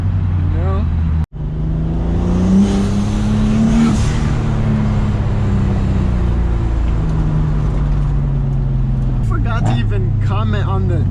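A turbocharged M52 engine in a BMW E30 pulls under load from inside the car. Its drone climbs in pitch, drops briefly with a sharp break at a downshift, then rises again under loud steady engine noise.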